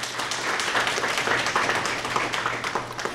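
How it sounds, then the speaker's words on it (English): Dense audience applause for staff at a prison service dog graduation ceremony, a steady wash of many hands clapping together with a low hum beneath, lasting throughout. "let's give them a big round of applause"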